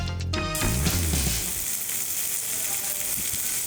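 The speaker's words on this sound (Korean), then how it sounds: "옥상으로 따라와 고기 구워줄게." Meat sizzles on a grill on a rooftop, a loud, steady crackling hiss that fills the clip after a brief musical sting at the start.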